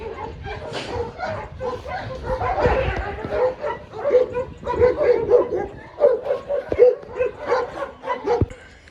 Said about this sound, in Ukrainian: Вона така дуже спокійна собака